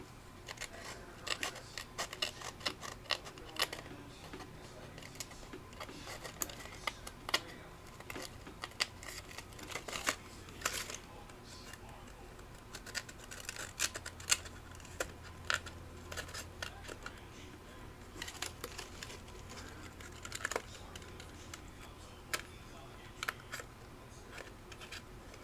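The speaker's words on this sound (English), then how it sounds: "So I'm just going to go in and carefully slice this green layer in half." Green paper layer of a sunflower pop-up card being carefully sliced with a blade, faint close scratchy cuts and small ticks repeating irregularly over a quiet room hum, alone.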